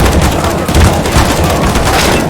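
Dense, loud barrage of grenade blasts and gunfire from a CS:GO match at DreamHack Winter 2014, booms and bursts piling up continuously with no pauses.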